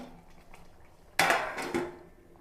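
A metal lid lands on a pot of chicken curry with a sudden clattering clank, a second smaller knock following as it settles, close and fairly loud after near silence.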